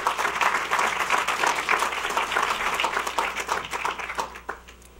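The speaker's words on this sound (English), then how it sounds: "Please, and a round of applause." A conference audience gives a round of applause, dense clapping from many hands filling the room at a steady level before thinning out toward the end.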